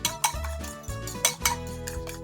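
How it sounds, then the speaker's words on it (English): Two eggs being mixed in a mixing bowl, heard as close, rhythmic clinks and taps of a utensil against the bowl, several quick strokes in irregular succession. "Okay, and I'm gonna give them just a little mix"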